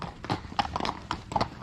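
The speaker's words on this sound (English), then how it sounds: "So if Reed brings him across now, across the face of this horse" Horse hooves clip-clop on firm ground as a horse is led past during manners training for driving and riding horses together, a quick uneven run of close, fairly loud hoof strikes with no talking.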